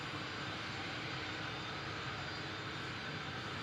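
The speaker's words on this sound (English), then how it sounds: "A380 is descending with the glide slope now." An Airbus A380 airliner descends on the glide slope into Manchester Airport, its engines a steady, broad roar that holds level and unbroken throughout, with no voices.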